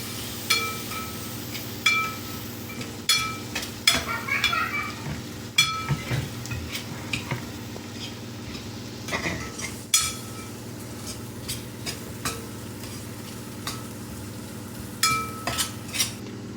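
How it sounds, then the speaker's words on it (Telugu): Cashew tomato curry ingredients are stirred in a pan, with a spoon clinking and scraping against the metal in irregular bursts over a low constant sizzle, close and without talking. "ఇప్పుడు వీటన్నింటినీ ఒకసారి కలుపుకోవాలి"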